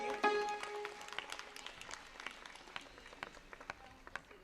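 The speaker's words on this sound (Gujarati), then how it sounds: "જયંતિભાઈ માટે આપણે જોરદાર તાળી પાડીએ." Audience at a Gujarat blind women's cooking competition event clapping for a guest called to the stage, scattered hand claps that build briefly then thin out, moderately distant in a hall.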